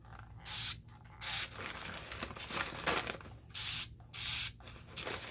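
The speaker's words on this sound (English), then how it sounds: "I have a water mister. I'm going to spray it." A water mister sprays onto a paper bag in a series of short hissing bursts, with crinkling paper sounds between them, close and fairly quiet.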